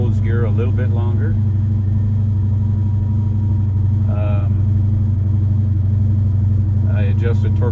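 A Callaway SuperNatural Impala SS V8 with 210,000 miles, freshly started and warming up, idles with a steady low rumble throughout, while a person talks over it at the start and end.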